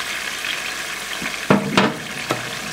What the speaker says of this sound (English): Then saute so the turmeric can cook.